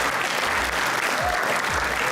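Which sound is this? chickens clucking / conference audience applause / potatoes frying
conference audience applause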